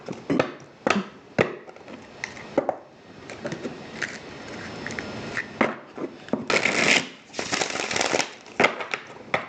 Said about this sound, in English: I feel like we need to really get these the cards mixed to get a good answer.